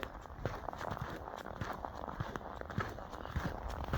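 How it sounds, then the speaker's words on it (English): Footsteps crunch and squeak on very cold snow, around -30°C in the Canadian wilderness, at a steady walking pace, close by, with no talking. "when the snow has that like styrofoam squeaky feeling"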